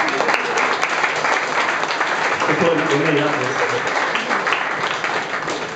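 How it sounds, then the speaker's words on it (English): A launch-night audience for a charity single applauds the official photographer Debbie, dense and sustained clapping filling the room while a voice speaks over it near the middle. "Debbie deserves a round of applause."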